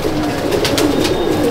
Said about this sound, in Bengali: আমি আরেকটা আমার জিরিয়া পেয়ারা দেখাচ্ছি, দারুণ পায়রা